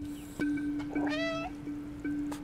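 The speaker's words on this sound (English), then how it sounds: "Meow, I say." A cat from the game Stray meows clearly in a short rising call, with a steady electronic tone running beneath and a few soft clicks around it.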